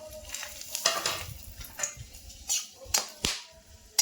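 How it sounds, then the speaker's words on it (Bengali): Dried chillies, bay leaves, cardamom, cloves and cinnamon going into hot mustard oil in a wok, crackling and sizzling close by, with clanking stirs and sharp spattering pops in bursts. "সর্ষের তেল এখানে শুকনো লঙ্কা তেজপাতা এলাচ লবঙ্গ দারচিনি দিয়ে দিচ্ছি কড়াই"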